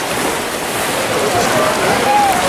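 Sea waves wash against the Antalya cliffs as a steady, loud broadband roar with wind buffeting the microphone, continuous and close throughout.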